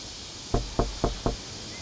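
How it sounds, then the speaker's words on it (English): Four evenly spaced knocks on a door in the video game Royale High, close and distinct against a quiet background with no talking. "Stop knocking on the door, Zezzy."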